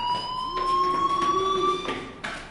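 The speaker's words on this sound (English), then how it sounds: "Hey, do you hear that fire alarm?" A fire alarm in the video game Life is Strange rings as a loud, continuous electronic tone with a steady pitch, briefly broken near the end, with no talk over it.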